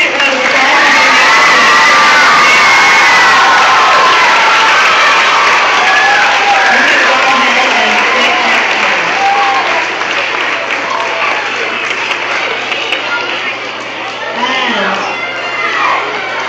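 Loud, sustained applause and cheering from a crowd of students at a school awards ceremony, with scattered shouts and children's voices throughout, gradually easing slightly toward the end.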